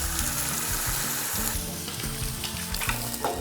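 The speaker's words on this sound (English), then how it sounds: "Then I'm gonna add this white wine." Chorizo and mussels sizzle and fry loudly in a hot pan after white wine goes in, with steady stirring and scraping over a constant crackling hiss.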